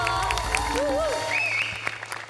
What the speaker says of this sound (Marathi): मला उभं राहून टाळ्या वाजवायच्या आहेत